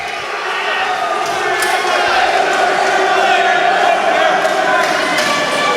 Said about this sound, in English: The crowd is going wild this evening